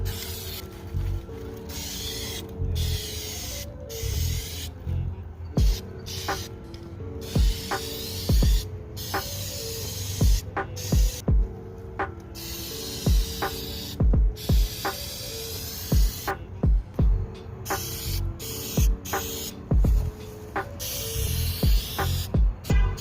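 Short bursts of spray paint hiss onto car eyelids in an irregular rhythm, separated by brief pauses and clicks of the nozzle, close and steady over a low background hum.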